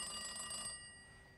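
A telephone rings during a phone test call in a cell, a short ringing burst with steady tones that cuts off partway through and leaves a faint lingering hum.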